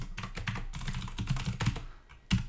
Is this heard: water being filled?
no